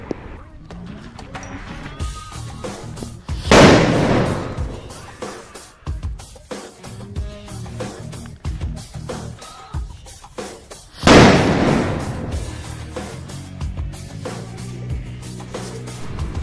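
A thick Standard Fireworks Fat Boy firecracker bursts in two loud, sharp blasts several seconds apart, each decaying into rumble, with a person talking quietly in between.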